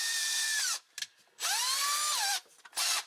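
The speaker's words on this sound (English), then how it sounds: "So now we'll drill these out." A power drill fitted with a hole saw cuts holes for a cab heater on a Honda Talon UTV, two long whining bursts with falling pitch separated by short pauses and a brief final burst, close and loud.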